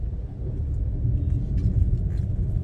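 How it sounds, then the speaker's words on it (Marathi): Steady traffic on a national highway near Dombivli, a low continuous rumble of passing cars and engines that sits close and even throughout, with no voices. "नॅशनल हायवेवरती तुम्हाला ट्रॅफिक लागते"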